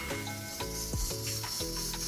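Loud sizzling of sliced garlic and ginger in a hot wok, a continuous crackling hiss with a few clunks of stirring, close up and with no talking.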